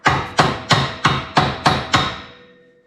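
Seven sharp hammer taps seat a frame part on a 2021 Polaris RZR being welded back together. The blows land at an even pace, close and loud, each with a short metallic ring, and the last one rings out longest.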